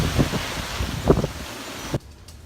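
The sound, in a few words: strong hurricane wind blowing during Hurricane Irma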